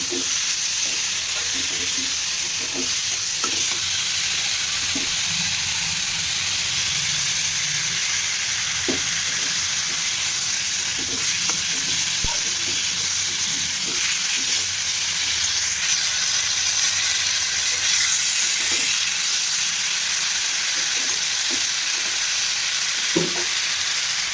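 A pan of fish curry sizzles and hisses steadily with oil bubbling, while occasional light clinks and stirring noises sound close by.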